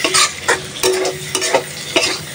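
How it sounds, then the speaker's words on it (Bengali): Tomatoes and green chilies stir-fried with spices in a pan for a fish curry, a steady close sizzle broken by five or six sharp scraping strokes of a spatula, with no talking. "টমেটো আর কাঁচামরিচ দিয়ে আর একটু সময় ভালোভাবে কষাবো মশলার সাথে"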